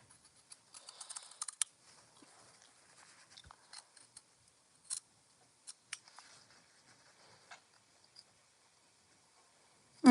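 Scissors snip into folded fabric for a family travel organizer, a run of short, sharp crisp cuts close by, clustered early and then spaced out with pauses, no talking.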